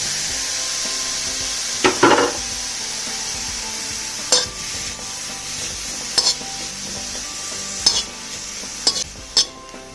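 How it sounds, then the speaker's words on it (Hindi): Two grated carrots are stirred in desi ghee in a kadai. A steady close sizzle is broken every second or two by sharp scraping strokes of the spoon. "अब इसमें ग्रेट की हुई 2 गाजर डाल देते हैं।"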